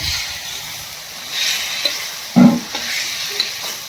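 Potatoes fry and sizzle in cooked spice masala for a Shivratri dish, a steady close hiss with a few louder stirring clatters and scrapes.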